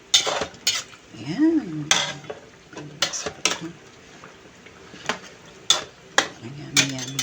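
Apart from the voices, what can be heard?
carrots being added and stirred into a pot of chicken curry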